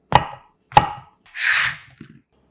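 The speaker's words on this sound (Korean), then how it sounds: "큰 것들은 먹기 좋게 3에서 4등분 해주세요" A knife chops king oyster mushrooms on a cutting board, two crisp separate cuts followed by a softer brushing scrape, close and clear with no talk.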